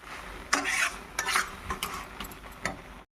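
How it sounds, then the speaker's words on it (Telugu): Bitter gourd spice powder stirred in a pan off the heat, with a few brisk dry scrapes and rustling sweeps of a spoon across the pan in quick bursts, close and fairly quiet. "ఇంక మనం స్టవ్ ఆపుకొని బాగా తిప్పుకుందాం"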